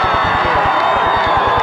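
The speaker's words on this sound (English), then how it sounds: "The B&B crowd excited about that one." A loud football stadium crowd roars continuously after a touchdown run, with rhythmic low thumps of stomping or clapping beneath the cheering.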